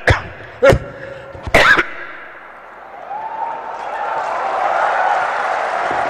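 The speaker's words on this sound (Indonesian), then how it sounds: "Saya flu, saya batuk sebenarnya." A few sharp, loud coughs in quick succession near the start from a speaker with flu at an anniversary ceremony, followed by a quieter murmuring background.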